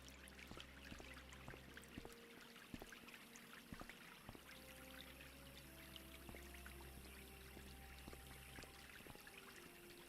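Fountain water fed by a running water pump in Broken Sword 4 pours and splashes steadily and softly, with scattered drip-like ticks over a constant low hum.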